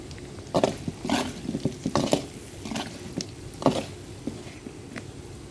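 Potatoes fry with salt and turmeric in a pan, a low sizzle under repeated scraping and stirring strokes that come in irregular bursts, close and moderately loud.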